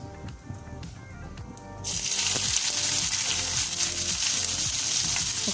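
Cumin seeds and black cardamom hit hot oil and burst into a loud, steady hiss that starts abruptly partway through and stays dense and close to the end.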